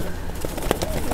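Pakistani Nasal Prince Golden pigeons coo softly in a short burst amid background chatter and rustling.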